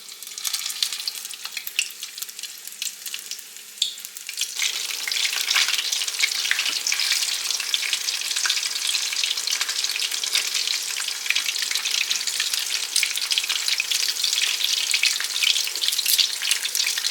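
Food frying in hot oil in a home kitchen, a dense steady crackle that starts lighter and swells into loud continuous sizzling after a few seconds, heard close with no talking.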